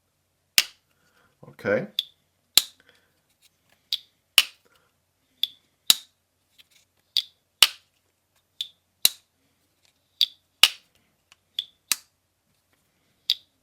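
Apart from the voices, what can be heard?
CJRB Bowie Pyrite slip joint knife blade deploying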